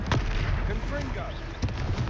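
A Confringo fire spell explosion in Hogwarts Legacy, a short sharp blast followed by crackling and a second burst, heard amid game background noise.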